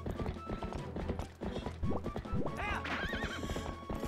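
A horse gallops in the Zelda Twilight Princess HD video game, its rhythmic hoofbeats clopping steadily along with a whinny partway through, amid game sounds.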